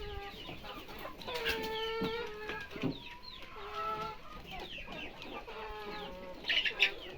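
Pouter pigeons kept in a loft give repeated soft cooing and clucking calls, with a steady background murmur throughout and a sharper burst of calls near the end, no clear speech.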